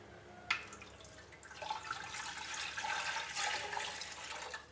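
Water poured from a glass into a clay pot on a gas stove, a splashing, trickling pour that starts abruptly and carries on steadily, close and moderately loud.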